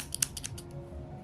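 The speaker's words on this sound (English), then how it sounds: "Good scissors." Scissors snip through crochet yarn with a few quick, crisp metallic clicks close by, soft and brief, with no talking.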